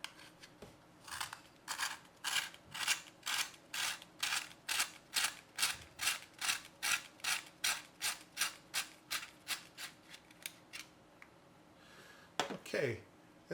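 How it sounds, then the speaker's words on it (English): A pencil sharpener grinds a thick-cored Derwent pencil in a rapid run of rhythmic rasping strokes, about twenty in steady succession, close and fairly quiet, with a brief shuffle at the end. "And then we'll go ahead and sharpen the Derwent."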